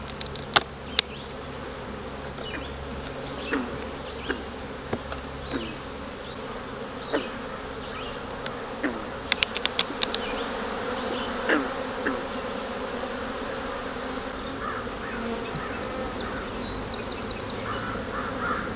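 A honey bee colony buzzes steadily during an open hive inspection, a dense continuous drone close by, punctuated by scattered clicks and taps of frame handling, with a crow cawing faintly in the background.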